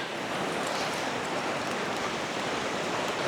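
A strong river current in the Idaho backcountry rushes in a steady, broadband roar that stays constant and close throughout, with no breaks or voices.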